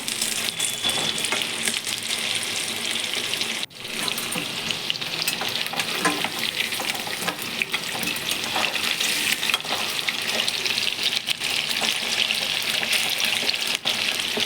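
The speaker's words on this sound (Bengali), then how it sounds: "তেল গরম হয়ে যাওয়ার পর এই চিকেনগুলো দিয়ে দিলাম এবং ডিপ ফ্রাই করতে হবে ফ্লেম হাই থাকবে" Chicken deep-fries in hot refined oil over a high flame, a loud, continuous crackling sizzle that runs steadily for the whole stretch with no speech.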